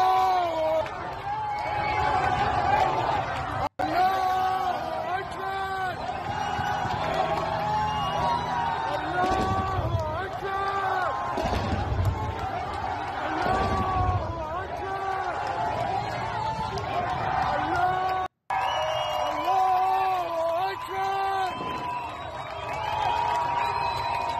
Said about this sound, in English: Iranians in Tehran, including one with the Houthi banner, applaud and cheer as they watch Iranian air defenses fend off Israeli attacks in the sky tonight